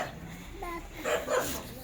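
Puppies bark and whimper at a house on a foggy day, with a few short yips and barks rising around the middle, moderately near, against quiet background noise.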